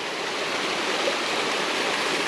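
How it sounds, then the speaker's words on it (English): A small creek runs nearby, its rushing water a steady, dense, loud wash with no pauses and no voices. "It's amazing how much sound that water puts off like that."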